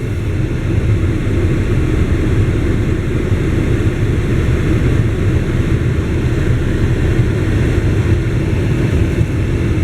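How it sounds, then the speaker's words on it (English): Steady, loud low-pitched road and engine drone fills the inside of a moving car, a continuous rumble with no breaks and no voices. "Hang on, I'm driving here."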